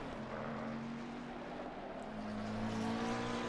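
Racing cars on the Oulton Park circuit, one tucked tight behind the back of a Bentley, give a steady, loud engine drone that swells slightly toward the end, with no talking.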